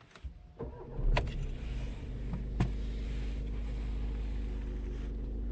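A Volkswagen Golf 7 or Passat B8 engine being started, with a key rattle, a brief crank and then a steady low idle that holds close and even to the end.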